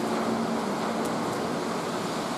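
Steady broadband roar of a waterfall inside a drain tunnel, a dense, even wash of water noise heard alone and constant throughout.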